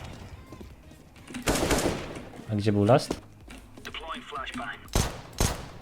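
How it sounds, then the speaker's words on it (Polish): Sharp gunfire bursts from Counter-Strike: Global Offensive ring out among muffled clicks and thuds, with a voice speaking briefly in the middle. "to jest CSGO, dwa strzały w głowę"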